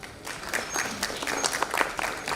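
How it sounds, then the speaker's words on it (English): A brief round of applause from a conference audience, sparse and fairly quiet, with scattered individual claps standing out over a short span. "may we once again express our appreciation with a warm round of applause"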